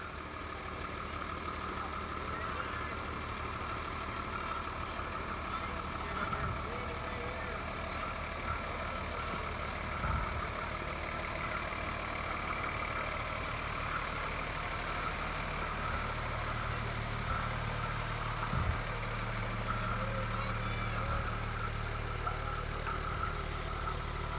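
Local fire department trucks roll past in a small-town fair parade, a steady low engine rumble with idling and passing vehicle noise, a few short bumps and clanks, continuous and moderately close.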